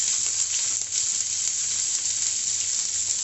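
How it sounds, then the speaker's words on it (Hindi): Steady, loud sizzling of roughly chopped onions frying in a hot pan, a constant bright hiss with no talking over it. "अब मैं इसमें प्याज डालूंगी।"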